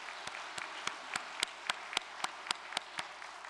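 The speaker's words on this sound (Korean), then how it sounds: "참 부모님께 감사의 박수를 올려주시기 바랍니다" Faint, distant applause from a church assembly audience, a steady rhythmic clapping with regular sharp beats, even and unhurried, heard alone at low level.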